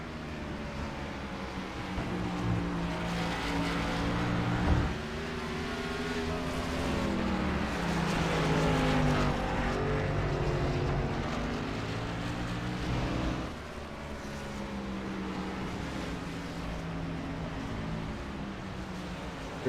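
Race car at Watkins Glen sliding sideways on the track, an engine drone with shifting revving pitch, sustained and fairly loud, with a brief louder surge partway through.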